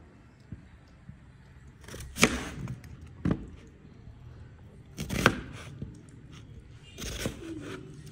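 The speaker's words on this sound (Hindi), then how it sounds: "प्याज को भी बारीक बारीक चॉप करना है हमें।" Onion being finely chopped with a knife on a board, a few sharp chopping strikes spaced irregularly over steady low background noise, close by and moderately loud.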